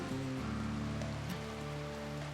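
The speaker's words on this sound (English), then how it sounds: "Oh, you're soaking wet. Yeah, well, it's raining." Rain falls in RimWorld as a soft, constant hiss of pattering drops under a low, steady tonal hum, with no pauses or voices.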